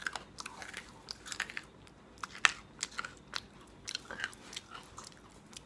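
Crispy dried jackfruit chips being bitten and chewed close to the mic, with a run of small irregular crunches and crackles, one sharper bite near the middle, quiet and without talk.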